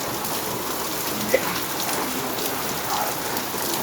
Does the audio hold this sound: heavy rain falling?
yes